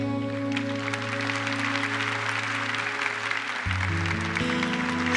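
A church congregation applauding during Mass, steady clapping heard under a sustained organ or keyboard chord that shifts pitch partway through.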